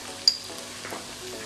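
Chicken fries quietly in a pan for a Chinese-style chilli dish, giving a steady low sizzle with one sharp tick near the start and no voices.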